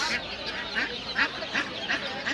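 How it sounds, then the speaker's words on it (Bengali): Domestic ducks, including raja and pekin breeds, quack repeatedly at a village poultry market, short calls recurring roughly every half second, fairly close, with no talk over them. "এই যে হাঁস"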